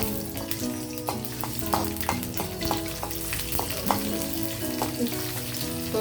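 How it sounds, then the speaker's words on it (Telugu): Mustard and other tempering spices and garlic fry in a spoonful of hot oil in a kadai for buttermilk rasam, giving a loud, steady sizzle with crackles and frequent clinks of a stirring spoon throughout. "పోపులు ఎగుతూ ఉన్నప్పుడే వెల్లుల్లి కూడా వేసేద్దాము."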